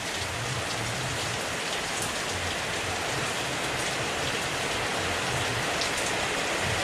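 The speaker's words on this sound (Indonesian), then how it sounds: "Hujannya makin lama makin nambah banyak." Heavy morning rain falls steadily and densely in a constant hiss with no pauses, close and even throughout, with no voices.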